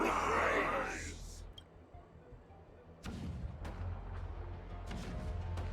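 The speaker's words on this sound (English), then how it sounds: "The rumble of the cannons." Cannons rumble in the Honkai: Star Rail video game. A heavy burst at the start is followed a few seconds later by a series of deep booming thuds under a dense battle soundscape.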